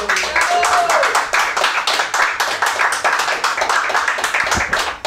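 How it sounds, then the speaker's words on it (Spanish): Loud, dense applause from a crowd, continuous rapid clapping filling the whole stretch, close and energetic. "Esto merece un aplauso, señores"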